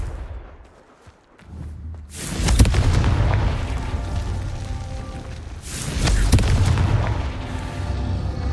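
The Confringo fire spell in Hogwarts Legacy detonates with two loud booming explosions a few seconds apart, each a sudden broadband blast followed by a long roaring, crackling rumble that fills the space between them.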